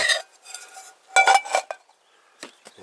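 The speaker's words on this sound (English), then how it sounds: "First, let's get our frying pan on" A metal frying pan is set down on a camp stove at a high-altitude campsite, giving a few bright clanks and scrapes in short bursts with quiet gaps between, close and fairly loud.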